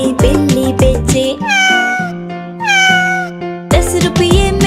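Bright, tonal cat meows sung within a Hindi children's song about a toy seller, two long drawn-out meows between musical passages, loud and clear over the backing music.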